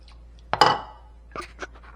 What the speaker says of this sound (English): Look at it drip. There's still water in the bowl and it's still dripping.